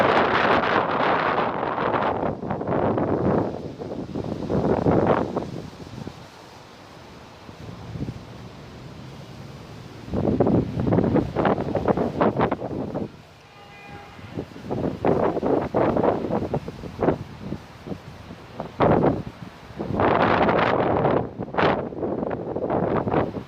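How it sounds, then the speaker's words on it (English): Strong wind buffets a microphone outdoors on a high windy spot, with loud roaring gusts that come and go, broken by a few calmer lulls. "This wind is so perfect."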